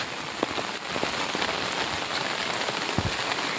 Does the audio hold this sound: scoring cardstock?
no